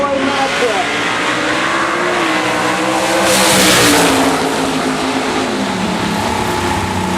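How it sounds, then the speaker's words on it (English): Ford and Chevrolet drag race cars launching side by side at a dragstrip, loud sustained engine roar rising in pitch through the runs and swelling near the middle as they pass, with crowd and announcer talk faintly underneath. "Here's another Ford versus Chevrolet matchup."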